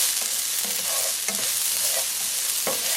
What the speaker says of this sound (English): Then continue stir frying.